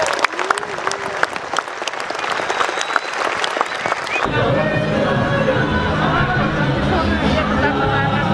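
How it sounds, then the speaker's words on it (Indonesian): At a 77th Indonesian Independence Day flag ceremony in Solo, someone speaks over light crowd noise before loud, sustained applause from a large crowd breaks out midway and carries on. "Tepuk tangannya sekali lagi."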